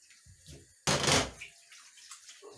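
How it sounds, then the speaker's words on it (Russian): Tap water gushes loudly for about half a second as rapana whelk feet are rinsed under a running faucet, then tapers off into softer splashing and handling noises nearby. "Так, сразу промываем их под водой."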